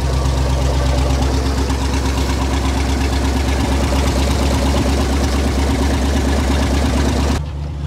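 A 1962 Ford C750 cabover truck idles just after starting, its engine a loud, close, steady rumble with a knocking pulse that runs continuously and then cuts off abruptly near the end.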